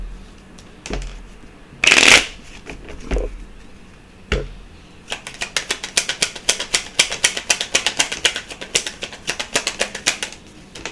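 A deck of tarot cards is shuffled close up: a few separate riffles early on, then a long run of rapid, crisp flicking snaps.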